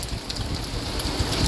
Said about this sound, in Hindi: इस समय भी बारिश मध्यम तेज़ बारिश के रूप में हो रही है